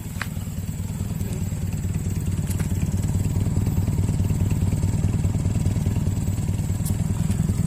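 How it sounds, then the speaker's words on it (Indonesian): Honda Civic Wonder engine fitted with an HKS exhaust idles steadily with a deep, rapid throbbing pulse, loud and close throughout with no talk over it. "Karena mobil ini pakai knalpot HKS, jadi suaranya agak ke racing-racingan."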